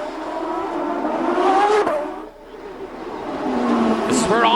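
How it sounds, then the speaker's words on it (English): A race car locks up its brakes into a hairpin during a 2005 Champ Car round in San Jose, with a loud engine note and rising, wavering tire squeal over roughly four seconds, under a commentator's voice. "See Wertheim lock up the brakes again into that hairpin."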